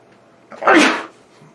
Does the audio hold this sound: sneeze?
yes